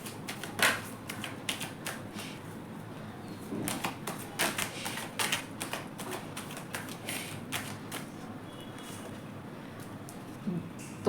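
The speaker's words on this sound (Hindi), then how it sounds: "पहले मैं सारे कार्ड्स निकाल लेती हूँ" Rapid crisp card snaps and shuffles as tarot cards are drawn from a deck, irregular taps scattered throughout with a soft voice faintly underneath.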